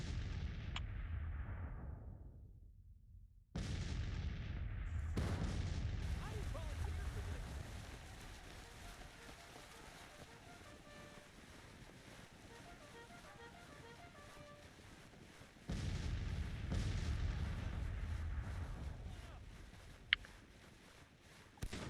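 Civil War infantry volleys crackle across a battlefield in the strategy game Grand Tactician, a sustained roar of massed musket fire and rumbling artillery with wind-like noise, swelling loud at the start and again near the end.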